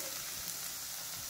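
Chopped capsicum, onion and carrot sizzle steadily in a hot pan while being stirred, a close, continuous crackling hiss with soft scraping underneath and no voices.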